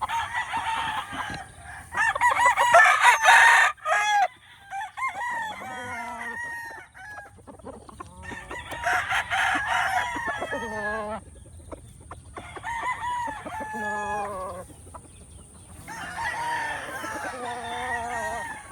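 Roosters crow loudly and repeatedly at a chicken farm, long drawn-out calls in several bursts with clucking and softer fowl sounds between, close and clear, with no talk.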